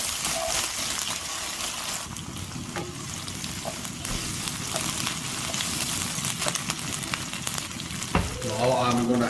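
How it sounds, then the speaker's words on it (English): Ginger and garlic sizzle in hot oil in a pan for homemade chicken biryani while being stirred, a steady close frying hiss with occasional utensil scrapes and clinks. "I'm adding the ginger and garlic. I will stir it."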